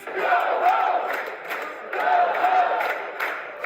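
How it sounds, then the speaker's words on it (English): A comedy club audience turns on a heckler, many voices yelling together for him to leave in two loud sustained waves of crowd shouting. "The crowd then turns their displeasure on Ken and yells for him to leave."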